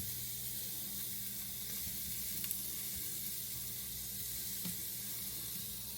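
Food crisps in a hot frying pan while making a bacon, egg and cheese biscuit, giving a steady, close sizzle and hiss throughout with a couple of faint clicks and no talking.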